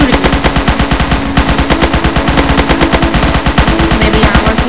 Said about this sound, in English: stop shooting.